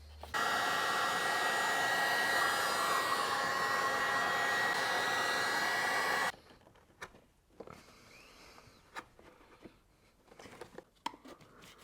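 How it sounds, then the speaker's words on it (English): Heat gun blowing steadily and loudly while heating a plastic engine cover on a BMW E92 320i, running for about six seconds before cutting off, followed by faint handling clicks and rustles. "a heat gun, so he heated up the whole cover"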